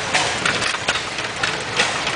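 Stationary gas engine at a steam and gas engine pageant, idling under governor control with the exhaust valve held open between firings; a steady, moderately loud engine chug with irregular puffs, no talk.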